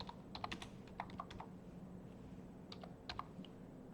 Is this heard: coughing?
no